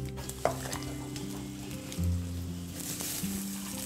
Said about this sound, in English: We let this simmer.